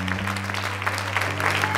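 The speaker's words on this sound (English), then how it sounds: "giving the Lord a clap offering" A church congregation claps together in a steady, close burst of applause during a sermon, over a sustained organ or keyboard drone.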